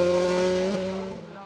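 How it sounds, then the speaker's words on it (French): Formula 3 race car with a Mercedes engine, a Dallara on a hill climb course, roars loudly and steadily with a high, sustained engine note that shifts slightly in pitch as it passes. "Autre F3 à moteur Mercedes, une F306, cette fois-ci celle de Nicolas Ve"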